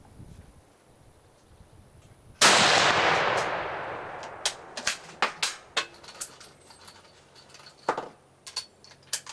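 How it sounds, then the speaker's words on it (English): A 'Waffen SS' sniper rifle fires at a target: one sharp, loud report rings out and decays, followed by a scattered series of light mechanical clicks and ticks. "three rounds to get a pattern"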